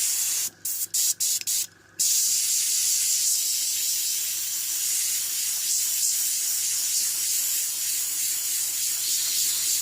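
Spray paint hisses onto a piece of cardboard, a few quick taps of the nozzle followed by one long, loud, continuous spray.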